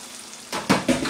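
Chopped porcini and orange birch bolete mushrooms drop into a hot frying pan with a sudden hiss, followed by a few clattering stirs and steady sizzling.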